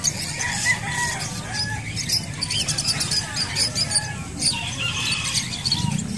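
Chickens and a rooster at a backyard flock, with steady clucking and repeated crowing close by, over a busy bed of bird chatter; no talk.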